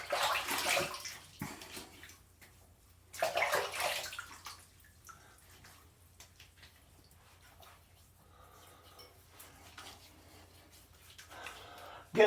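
Tap water runs in two short splashing bursts as a razor is rinsed after a shaving pass, then fades to quiet dripping and handling noises.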